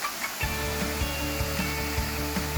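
Meruyan waterfall pours steadily, a loud, close, continuous rush of falling water that fills the scene without a break.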